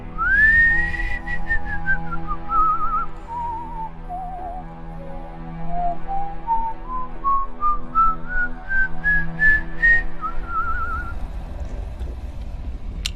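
A person whistling through the lips, one long continuous line of melody that glides down and then climbs back up in pitch, loud and close over a low background rumble.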